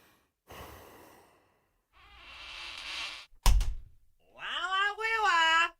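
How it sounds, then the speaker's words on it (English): Several heavy, breathy exhalations and snorts come in separate bursts, close and loud, ending in a strained, voiced groan. "Heavy breathing."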